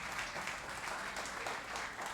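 Congregation clapping during a church service, a steady dense patter of many hands heard from a moderate distance, moderately quiet and continuous.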